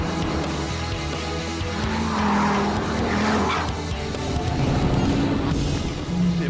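A 2013 SRT Viper's rear tires squeal as the car slides under power on a track, the engine roaring throughout and the squeal rising in wavering bursts, loud and close.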